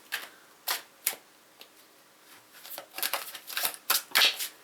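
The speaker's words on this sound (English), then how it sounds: "So I'm going to just start shuffling." Tarot and oracle cards being shuffled by hand: a run of crisp, papery riffles and slaps, sparse at first, then quicker and denser, close and fairly loud with no talking.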